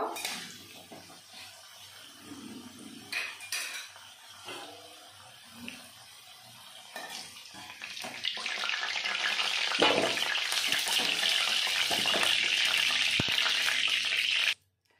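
Potatoes fry in oil until red, with quiet clinks and shuffling at first, then the sizzle builds into a loud, dense crackle before cutting off abruptly at the end.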